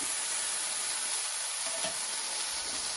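A beef taco fries in a hot pan, giving an even, continuous sizzle and bubbling hiss close up, steady and unbroken with no talking.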